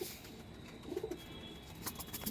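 Dobaj line pigeons and their young chicks coo softly, with a few faint low coos rising briefly over a dim, steady background hiss.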